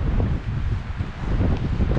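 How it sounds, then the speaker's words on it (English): Strong wind gusts roaring across an open canyon rim at Bryce Canyon among red rock formations, a steady loud rumble buffeting the microphone with no one speaking. "Very windy here today."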